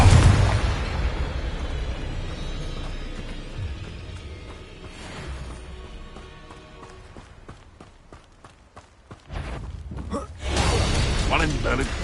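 Confringo blasting spells explode during combat in Hogwarts Legacy. A heavy burst opens, and the noise fades into scattered clatter before another loud, sustained blast erupts near the end.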